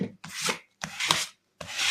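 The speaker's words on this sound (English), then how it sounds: "So now use your bone folder or your spatula." A plastic spatula is pressed and rubbed across a green paper hanging file folder in three separate scraping strokes, each about half a second long with short pauses between them. The rubbing is close and dry, with no talk.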